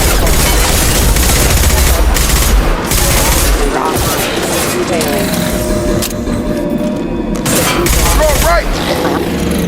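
Rapid gunfire bursts in the video game Mass Effect 2, loud and dense, with booming impacts layered over the shots.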